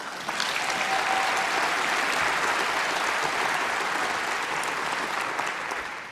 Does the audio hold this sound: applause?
yes